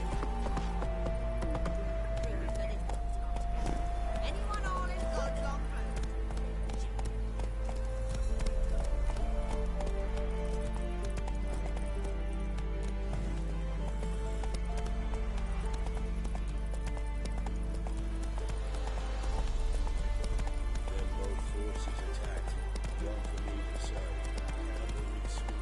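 Horse hooves gallop in a steady clip-clop through The Witcher 3, accompanied by a sustained low tone and game music, with occasional voices and a faint whinny.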